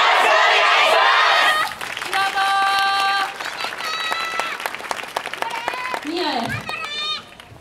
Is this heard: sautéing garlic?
no